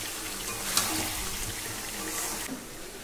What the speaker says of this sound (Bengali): আমার বর চলে এসছে, বাথরুম পরিষ্কার করছে